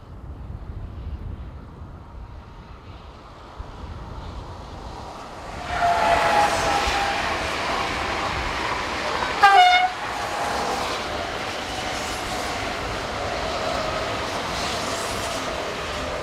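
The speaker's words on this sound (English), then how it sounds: "a pair of AGC Z27500 electric units head north with the 1539 from Serbière to Avignon" A pair of AGC Z27500 electric multiple units heading north builds from distant rumble into a steady close rolling roar, with one brief horn toot partway through as the train passes.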